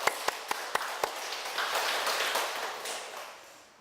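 A church congregation claps, a few sharp separate claps first and then dense, fairly quiet applause that fades out toward the end.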